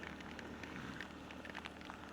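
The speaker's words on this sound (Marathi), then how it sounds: "बारीक बारीक नाही, जोरात झाला आता साला पाऊस." Heavy rain pours steadily during a motorcycle ride on a Honda Splendor, a dense, even hiss with scattered drop impacts throughout, no voices.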